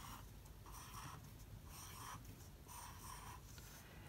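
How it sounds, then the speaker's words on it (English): Pencil drawing spots on paper while sketching a cougar cub: faint, quiet scratching strokes in short repeated bursts, with no talk. "when you draw these spots, you can kind of draw them wherever you want"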